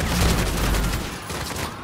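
Rapid gunfire from the Call of Duty: Modern Warfare campaign, a dense burst of overlapping shots and booms, loud and close, easing off slightly toward the end.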